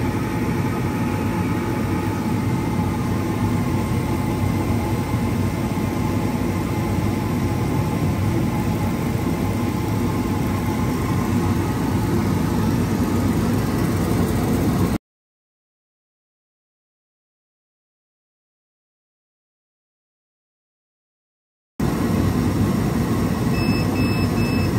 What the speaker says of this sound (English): I'm going to turn on the blower and we're going to start this engrave